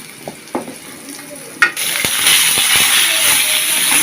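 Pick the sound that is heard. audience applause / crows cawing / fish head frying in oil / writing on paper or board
fish head frying in oil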